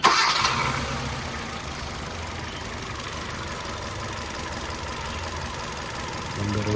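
A Hyundai Accent 1.4 with a misfiring engine and freshly swapped spark plugs cranks and catches, then runs at a rough, steady idle close by. There is a brief louder burst at the start and a small rise near the end.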